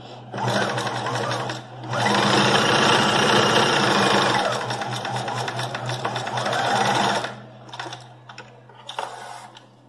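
An electric sewing machine runs a topstitch finishing seam along a fabric pocket, its fast mechanical whirring and rattling coming in long close bursts, with a brief pause and a few short stops near the end.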